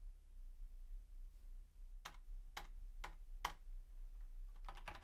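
Keys tapped on a computer keyboard while typing and pressing delete: a handful of sharp, evenly spaced clicks, then a quick cluster of several more, close and quiet over a low steady hum.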